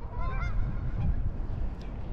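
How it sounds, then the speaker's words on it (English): Geese honk in a short burst near a fishing spot, fairly faint against steady wind and background noise. "Yo, geese."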